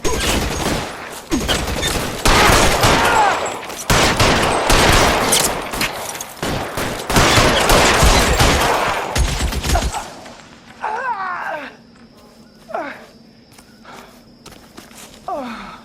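Rapid gunfire bursts crack through a shootout in the video game L.A. Noire, dense and loud for about ten seconds, then give way to quieter scattered sounds and a low hum.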